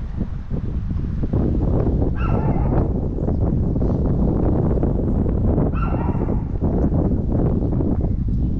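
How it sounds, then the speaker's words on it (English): A couple of dogs bark out of sight in a desert landscape with cacti, a few distant barks heard under steady wind noise buffeting the microphone. "A couple dogs barking."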